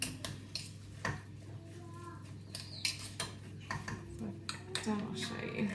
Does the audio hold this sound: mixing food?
yes